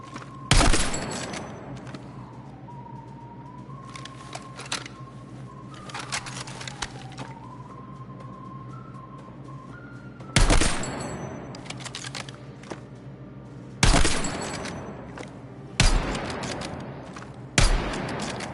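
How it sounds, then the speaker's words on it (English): Sharp broadband gunshots in Battlefield 6, fired in short bursts of a couple of rounds at a time, loud and close, spaced several seconds apart over a steady low game hum with a faint tonal beep in between. "I'm literally shooting 2 rounds, is what it feels like, each time I shoot."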